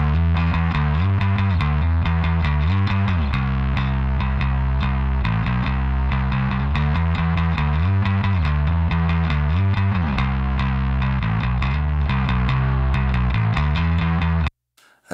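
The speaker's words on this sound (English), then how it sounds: "And now I'll put in the bass bus, and I'll take the crush in and out." Bass guitar on a bass bus with a crush effect switched in and out, playing a continuous, loud, distorted line of plucked notes that stops abruptly near the end.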